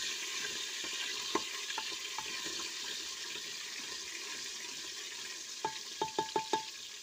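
Whole cumin seeds sizzle faintly in hot oil with garlic, a soft steady frying hiss broken by sharp spoon clinks and scrapes against the pan, clustered near the end.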